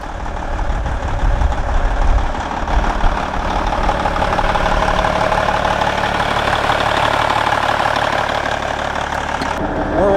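A large diesel engine of a wrecked Peterbilt 379 semi truck idles loudly and close by, a steady low rumble with rhythmic knocking throughout.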